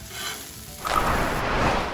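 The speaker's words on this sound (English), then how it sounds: "Keep stir frying it up on the griddle" Sizzling frying of vegetables on a hot griddle grows louder partway through, a steady crackle of food being stirred and tossed, close and continuous.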